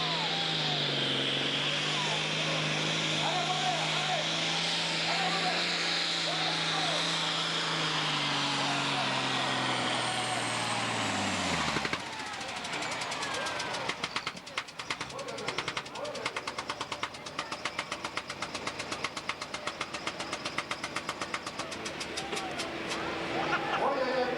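A pulling tractor's engine howls loud and close, its pitch sliding as it hauls the sled at a tractor pulling competition, then cuts to a crackling, sputtering idle while voices talk over it.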